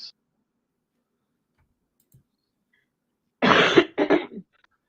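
A person who is feeling unwell coughs a few times in quick succession after a near-silent stretch, close and fairly loud.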